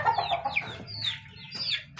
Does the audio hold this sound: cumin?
no